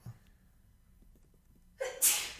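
A single sharp sneeze bursts out near the end after a quiet intake of breath, loud and close.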